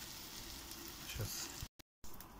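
Batter fritters (oladyi) sizzle and crackle in a hot frying pan, a steady, moderately loud frying hiss that cuts off abruptly near the end.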